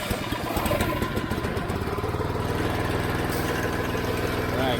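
A small gas engine on a pressure washer, set to throttle position 3 with the choke on, catches and settles into a steady close-up chugging idle, loud and even after a rough start.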